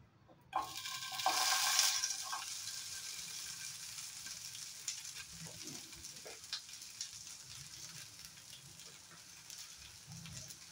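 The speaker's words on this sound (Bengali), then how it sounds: "এখানে আমি আলুগুলো সেঁকে নেব" Potatoes sizzle in a pan on a gas stove: a loud burst of frying hiss when they hit the oil, easing into a steady, quieter crackle and sputter with occasional stirring scrapes, no talk.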